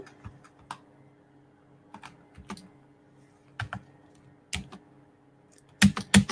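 Keys clack on a computer keyboard in a workshop, scattered individual taps with pauses between them, ending in a few louder strikes, close and with no speech.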